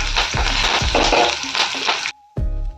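Cumin seeds and a couple of curry leaves frying in hot oil for coconut chutney, a dense steady sizzle with stirring scrapes that cuts off abruptly near the end before the frying noise resumes.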